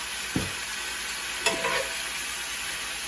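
A spoon scrapes and stirs vegetables in a hot skillet for a harvest skillet dish, two distinct stirring scrapes over a faint steady sizzle, with no talking.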